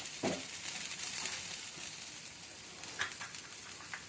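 Taro root and potatoes frying in a pan, heard as a soft, low-level sizzle with a few brief clinks and stirring scrapes standing out against it.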